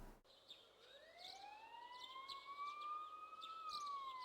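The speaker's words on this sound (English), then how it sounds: "You can hear sirens in the distance." Distant sirens in the video game Persona 4 Golden wail faintly, a thin rising and sliding tone held steadily across the clip over low background hiss, with small bird-like chirps dotted on top.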